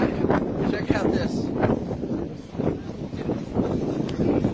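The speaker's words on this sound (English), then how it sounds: "Cold, windy, and rainy here." Cold, rainy wind gusts across a cruise ship deck on rough Adriatic seas, battering the microphone in uneven, swelling bursts over a low rumble, with a voice faintly under it.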